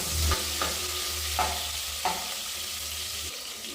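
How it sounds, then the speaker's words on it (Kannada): Onions fry and sizzle in a pan for chicken biryani, a steady close hiss broken by a few soft stirring scrapes. "ಈರುಳ್ಳಿ ಎಲ್ಲ ಬ್ರೌನ್ ಕಲರ್ ಬರೋವರೆಗೂ ಫ್ರೈ ಮಾಡ್ಕೊಳ್ಳಿ."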